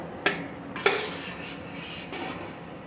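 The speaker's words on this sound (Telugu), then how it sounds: "పల్లీలు వేయించుకుంటున్నాను" Peanuts being dry-roasted in a pan, moved about so they clatter against the metal, with two sharp scraping clanks close by and a lighter rattle a moment later.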